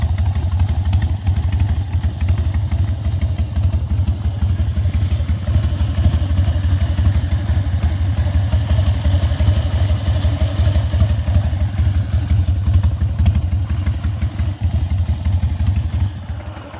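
A 100th anniversary Harley-Davidson motorcycle engine runs close by with a loud, steady low rumble and mechanical clatter, holding an even idle-like beat throughout and easing slightly at the very end.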